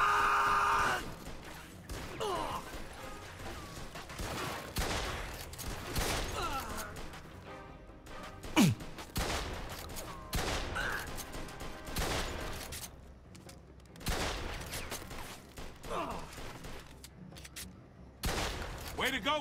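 Gunfire from the Mafia II video game crackles in repeated bursts over about twenty seconds, with single shots and rapid volleys mixed with in-game voices, groans and crashes.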